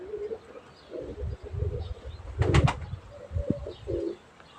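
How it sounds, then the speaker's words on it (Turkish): A pigeon flying in open sky during a pigeon-flying session gives a short burst of close wing flapping mid-clip, set against outdoor background noise and faint coos. "Bu kuşumuz da çok açık uçuyor."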